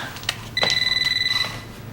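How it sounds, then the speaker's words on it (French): A telephone rings indoors with a warbling electronic tone, one burst lasting about a second, moderately loud over quiet room noise. "Tiens, le téléphone."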